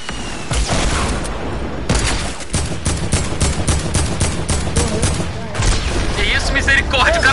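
Gunfire in the video game Fortnite: loud rapid bursts of automatic shots and sharp single cracks in quick succession, with a few heavier booms, mixed with game noise under an excited voice.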